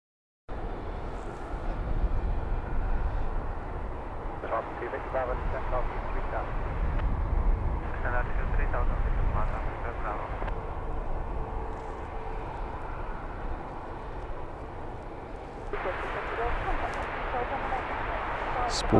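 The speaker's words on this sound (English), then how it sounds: "Sporting the nice bold Neo livery, this A320 Neo is departing for Catania." An EasyJet Airbus A320neo departs London Luton Airport, its engines a sustained broad roar in the distance that swells partway through, with occasional voices nearby.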